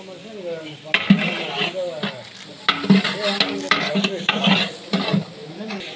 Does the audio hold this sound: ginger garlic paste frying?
yes